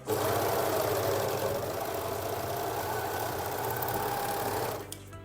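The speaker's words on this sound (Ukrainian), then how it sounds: "Прострочуємо оверлок." An overlock serger stitches a seam on mesh fabric for underwear, running in a loud continuous whir with a steady mechanical rattle for nearly five seconds before stopping abruptly.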